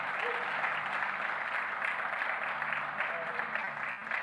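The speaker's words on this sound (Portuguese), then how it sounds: "Você pode aplaudir Jesus por isso?" A church congregation applauds at a Sunday sermon: a steady, even wash of many hands clapping at a moderate distance, fairly quiet and sustained, easing slightly at the end.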